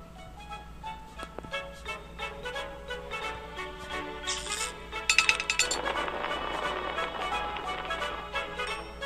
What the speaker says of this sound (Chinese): 破坏冰块。